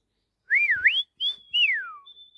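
A blackbird sings clear, fluting whistled phrases outdoors in the morning: a looping two-note warble, a pause, then a sliding descending note and a faint high trailing tone, close and isolated.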